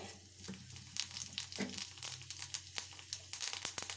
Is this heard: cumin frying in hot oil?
yes